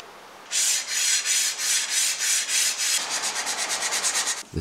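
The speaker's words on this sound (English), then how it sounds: "and then the excess will be sanded off" Steady back-and-forth strokes of hand sanding on wooden furniture remove excess sanding sealer. A dozen even, close rubbing passes speed up into quicker, shorter strokes, with no talking.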